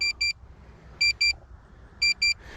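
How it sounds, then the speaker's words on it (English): A Potensic Atom drone beeping while it returns to home: sharp, high electronic double beeps repeating about once a second, steady and fairly loud over a faint background hiss, with no talk. "It's going to beep the whole time"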